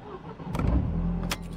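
A Mercedes W203 engine cranks and fires up, a brief starter whirr followed by the engine catching into a low idle rumble, close and fairly loud, with no talking.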